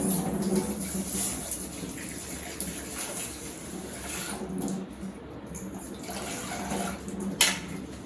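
Lentils (dal) are rinsed in water in a home kitchen for khichuri, with soft splashing, swishing and trickling that rise and fall in short bursts.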